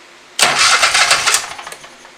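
A Kohler engine swapped into a Scag Tiger Cub mower cranks and catches abruptly, running loud and close with a few uneven pulses before settling and fading slightly.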